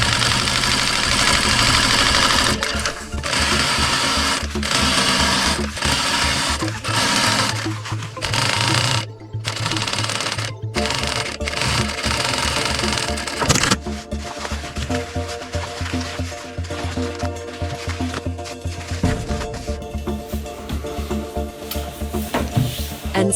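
A sewing machine stitches the lining of a handmade trench coat, running in loud steady bursts with brief pauses between runs, then a lower, continuous hum of stitching through the later half.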